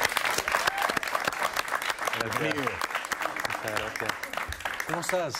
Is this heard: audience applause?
yes